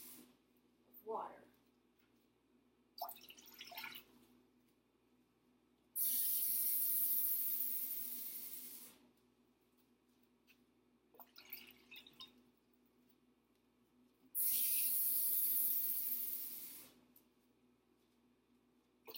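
Tap water runs hard into a cooking pot for gluten-free pasta in two loud bursts of a few seconds each, with quieter kitchen sounds and drips in between.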